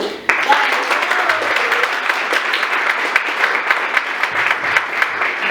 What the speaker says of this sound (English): just a round of applause to our host and also for yourselves for showing up